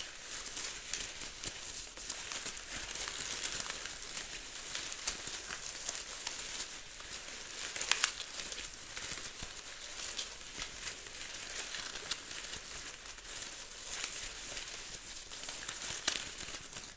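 A flower-patterned item is handled, giving a soft, continuous rustle and crinkle that stays faint and close with no voices throughout.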